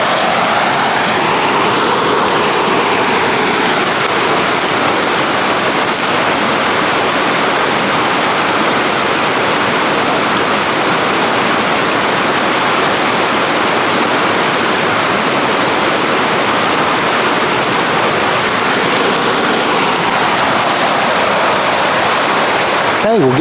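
The Duck River flows right beside a hiking trail in a steady, close broadband rush, like a small waterfall or riffle, running loud and unbroken from start to finish with no other sounds rising above it.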